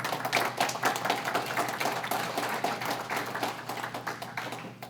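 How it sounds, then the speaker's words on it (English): A small audience gives scattered applause: a few seconds of irregular, overlapping claps at moderate loudness, thinning out toward the end. "this is where I will hold for applause"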